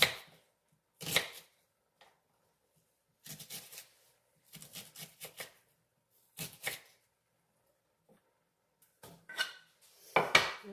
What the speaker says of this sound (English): Sometimes I find that chopping by hand is fast too